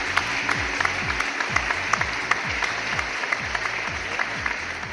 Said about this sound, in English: please do welcome our panelists with a warm round of applause